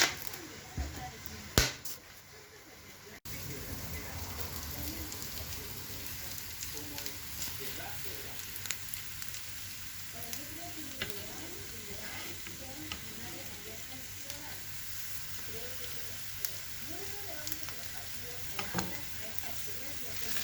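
Chopped onion alone fries over high heat in a pan, a steady close sizzle running throughout with occasional stirring clicks, and a person talks faintly over it.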